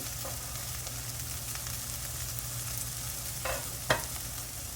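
Green chilies going into frying karela (bitter gourd) and chickpea dal, a soft steady sizzle broken by a couple of light spoon clinks near the end, quiet and without voices.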